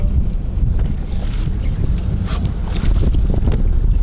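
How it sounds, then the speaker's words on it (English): Strong wind buffets a microphone aboard a Pavati boat on open water, a loud, steady low roar with gusting surges and faint water wash throughout, no voices. "seeing how the wind is pretty significant today"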